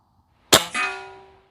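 A single sharp crack from a Beeman 1042 .22 caliber break barrel pellet rifle firing a hollow point lead pellet, followed by a short metallic ringing tail, loud and close in a quiet setting.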